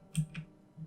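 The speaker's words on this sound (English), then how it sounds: "And maybe I want this position to change as well. So if I hit a position keyframe, U on the keyboard" A single key, U, is pressed on a computer keyboard: a couple of soft, close clicks followed by a faint third click, all brief and quiet in a calm room with no talking.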